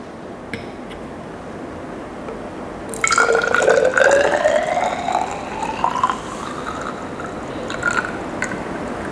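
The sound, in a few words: pouring Fa1 solution into a measuring cylinder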